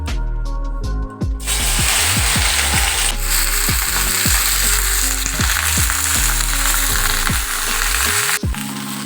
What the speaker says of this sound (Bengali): প্রথমে আমি সর্ষের তেলে ভেন্ডিটা ভেজে নেব।